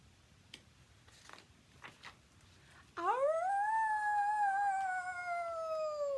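A few seconds of near-silence with faint ticks, then a dog breaks into a loud, long, wavering howl that holds steady until the end.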